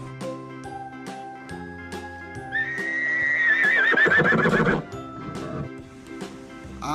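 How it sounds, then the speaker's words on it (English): A horse gives one loud, wavering whinny in the middle, surrounded by jingling bells and a steady clip-clop of hooves, set against light children's-song music. "H for horse."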